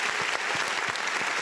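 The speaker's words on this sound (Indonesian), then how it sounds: "boleh beri tepuk tangan untuk kita semua pada sore hari ini" Audience applause at a hotel launch event for a regional news outlet, a steady wash of many hands clapping with distinct individual claps standing out, sustained and fairly near, no voices over it.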